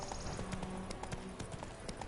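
Horse hooves clip-clop at an even trot while riding in The Witcher 3: Wild Hunt, a steady close rhythmic clatter over game ambience, with faint voices in the background.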